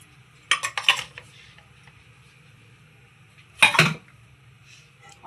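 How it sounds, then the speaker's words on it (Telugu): A metal kadai pan is set down on the stove for pulihora, giving two separate bursts of clattering metallic clinks and scrapes with near silence between them. "కళాయి పెట్టుకొని ఆయిల్ అయితే వేసేసుకోవాలి"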